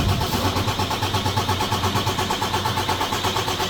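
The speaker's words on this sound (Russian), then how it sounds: "Хорошо заводится, но долго." A Volvo FH4 truck engine with about 100,000 miles cranks and churns in a steady rapid pulsing rhythm, loud and close with no talking.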